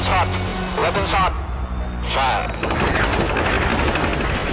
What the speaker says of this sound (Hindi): ये गन हरकत में आ जाती है और खुद निशाना साधकर पायलट के एक कमांड पर आग बरसा देती है